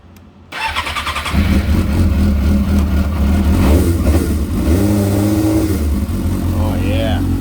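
A 2005 Suzuki GSX-R 600 motorcycle engine cranks and catches, then idles loudly and close with rising and falling revs for several seconds, someone talking over it.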